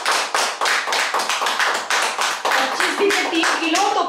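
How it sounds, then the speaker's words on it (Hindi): A group claps in a steady, fairly loud rhythm for a participant in a weight-loss yoga and cardio class, the claps continuing throughout with a voice briefly heard near the end. "तालियां बजा दो इनके लिए।"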